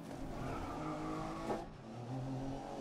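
BMW M1 race cars in the GRID racing game, a pack of four running close together, give a steady engine drone with tyre noise, fairly subdued rather than aggressive, continuous throughout with a brief rise midway.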